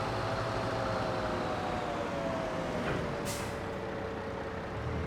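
A forklift truck in Farming Simulator 22 hums with a steady engine drone and broadband noise while driven, then a short hiss like an air brake as it parks.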